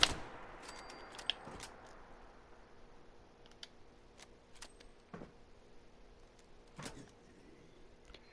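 Sparse gunshots in Fallout 76, a handful of sharp cracks spaced seconds apart, fairly faint against a quiet background with no talking.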